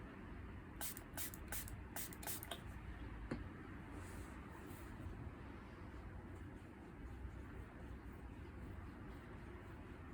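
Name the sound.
water spray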